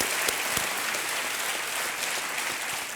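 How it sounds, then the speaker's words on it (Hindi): A studio audience claps for contestant Megha Patil on a TV quiz show, a dense, even wash of applause sustained throughout with a few sharper hand claps standing out. "तालियां बजती रहे मेघा पाटिल के लिए।"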